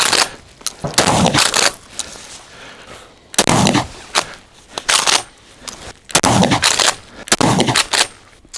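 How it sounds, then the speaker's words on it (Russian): Shots from a Benelli Nova pump-action shotgun, four loud, sharp blasts spaced a few seconds apart, each with a brief ringing decay, close by with no talking. "Стреляю."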